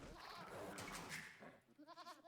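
Sheep bleat in the Age of Empires II video game, a short run of quavering bleats following a stretch of busy noise, fairly faint overall.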